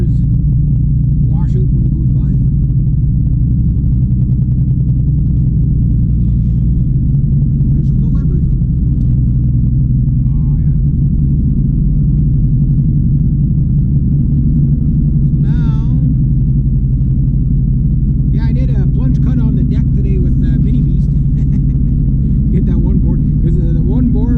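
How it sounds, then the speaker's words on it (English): A heavy vehicle's low engine rumble drones steadily throughout, loud and close, with occasional faint higher sounds above it. "Big old truck coming."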